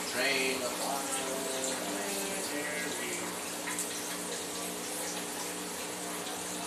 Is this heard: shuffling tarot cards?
no